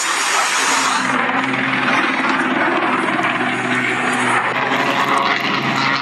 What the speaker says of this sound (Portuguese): O avião caindo.